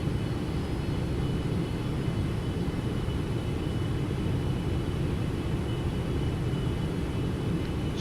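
FlightFactor 777F freighter engines in the X-Plane 12 flight simulator, a steady loud broadband roar with deep rumble, spooling up under added throttle, continuous and unbroken.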